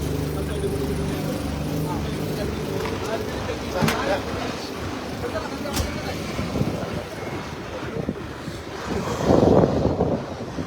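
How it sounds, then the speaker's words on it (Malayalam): Wind blowing over a high viewpoint near Thrissur, a rough steady rumble buffeting the microphone with gusts that swell and fade, while a person talks throughout. "നല്ല കാറ്റ്."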